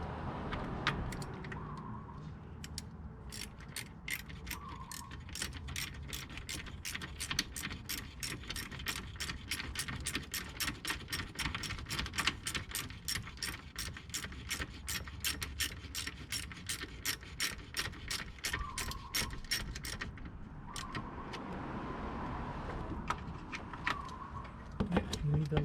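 Dense, steady ratchet clicking from a wrench tightening the top radiator bolts on a 2005 Cadillac CTS, running nearly continuously for about twenty seconds with brief pauses at the start and end and a faint voice in the background.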